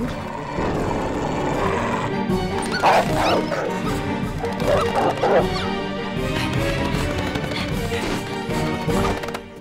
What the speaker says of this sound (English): Is it your dog that's barking?